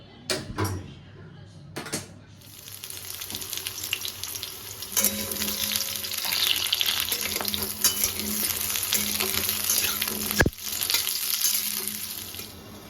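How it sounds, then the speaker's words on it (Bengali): Potatoes frying in a pan on a home gas stove, a continuous sizzling hiss with occasional stirring clatter and a sharp knock near the end, fairly close and steady throughout. "আলুটা ভেজে নিলাম আলুটা ভেজে নিই"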